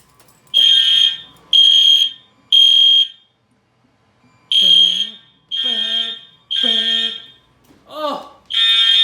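Edwards fire alarm horns blaring in sync during a home system test, loud repeated buzzing blasts in short bursts with pauses, mixed with a voice talking between and over them.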